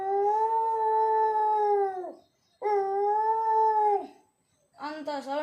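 A government school student's voice mimics a fox howling, with two long sustained howls separated by a short pause and a third starting at the end, close and clear.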